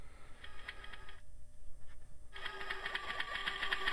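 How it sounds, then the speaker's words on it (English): Electronic scanning effect from a 1:6 scale Captain Kirk command chair replica by Quantum Mechanix, a close, steady buzzing, whirring pattern with repeated bright pulses, dropping out briefly midway before resuming louder. "All the lights light up when the instrument scanning sound plays."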